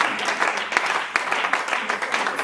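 Congregation applauding for Jesus during a church service: a dense, steady wash of many hands clapping together, moderately loud and continuous throughout, with no speech over it.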